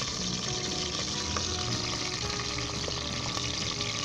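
Garlic and ginger frying in about five tablespoons of vegetable oil over medium heat, with onion in the pan, giving a steady, close sizzle and crackle that stays even throughout with no one talking.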